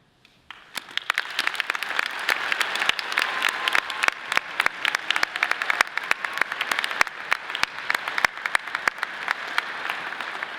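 A large audience applauds honor society graduates at a Colorado State University College of Natural Sciences ceremony, with sustained, dense clapping of many hands and sharp individual claps standing out.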